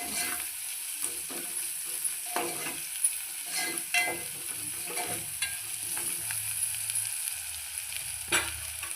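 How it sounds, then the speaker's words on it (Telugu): Onions and turmeric frying in oil for a brain fry dish, a steady close sizzle with repeated scraping strokes of a spatula stirring the pan, no voices. "పసుపు వేసి వీటన్నిటిని మంచిగా నూనెలో గోలియాలి."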